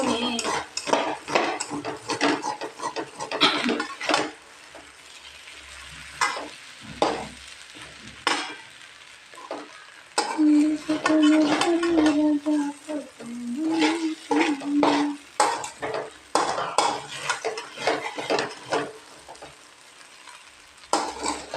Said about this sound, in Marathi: खिचडी पूर्ण परतून झालेली बर का